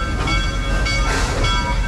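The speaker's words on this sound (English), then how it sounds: "Actually the largest steam engine still in operation in Florida." Propane-fired steam locomotive at Busch Gardens Tampa, the largest steam engine still operating in Florida, chugging steadily nearby with a loud, continuous rumble and hiss and no talk.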